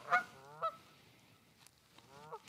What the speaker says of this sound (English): Being shouted at by these geese.